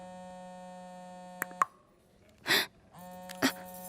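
A phone rings with a steady electronic buzzing tone that breaks off, pauses, then resumes, with a couple of short vocal sounds and clicks in between.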